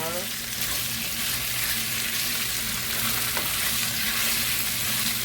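Beef sizzling and frying in a hot pan while being stirred, a steady close crackle and hiss that holds throughout with scraping stir sounds and no talk.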